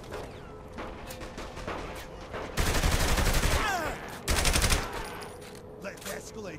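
Gunfire in Saints Row: The Third, with dense, loud bursts of rapid shots over a continuous in-game backdrop, a long volley followed by a shorter second one, then quieter scattered sounds.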